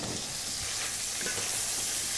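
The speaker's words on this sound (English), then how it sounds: "my onions are beginning to sizzle, so they're frying nice and quickly" Onions fry in a pan with a loud, dense, continuous sizzle and hiss, close up and steady, with a light stirring scrape partway through.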